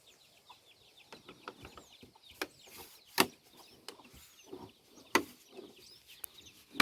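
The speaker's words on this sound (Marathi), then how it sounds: "क्यूट पक्षी क्यूट पक्षी" Small birds chirp and twitter nearby in quick, scattered calls, mixed with sharp pecking clicks and taps.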